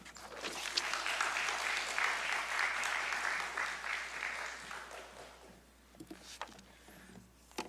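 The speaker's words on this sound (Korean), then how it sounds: "우리 함께 환영의 마음을 담아서 우리 박수로 맞이하도록 하겠습니다" Sustained audience applause from a church youth worship congregation welcoming a pastor to the stage, a dense steady wash of clapping that fades after about five seconds into scattered claps and quiet.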